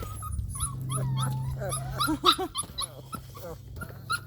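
Akita puppies whimper and yip in quick, overlapping high-pitched cries at feeding time, close by, with a low hum running underneath.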